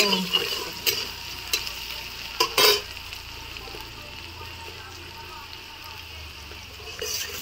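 Onion and garlic frying in a pan give off a steady hiss of sizzle, broken by a few sharp clinks and scrapes of a spoon stirring.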